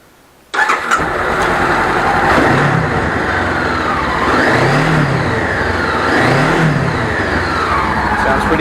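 A Honda CBR500R motorcycle engine, freshly serviced with new oil and filter, cranks and fires up abruptly, then settles into a steady loud idle with a few gentle revs, close by, with no talk over it.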